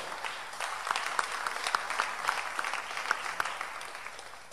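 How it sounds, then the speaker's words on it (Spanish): Church congregation claps continuously for several seconds, a moderately distant, even wash of many hands with a few sharper individual claps standing out. "Denle el aplauso al Señor."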